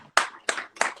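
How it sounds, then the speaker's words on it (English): Three distinct hand claps in a quick, even rhythm, close and crisp, applauding a guest during an Instagram live session. "Everybody, give her a round of applause"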